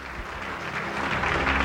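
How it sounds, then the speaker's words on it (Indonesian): A church congregation applauds for Jesus during an evangelist's service, a brief, steady patter of many hands clapping together that grows a little louder toward the end. "Kami tepuk tangan buat Tuhan Yesus"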